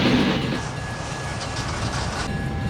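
Model train cars roll and bump along the rails in a steady, dense rumble with faint rattling, close and continuous, without talk.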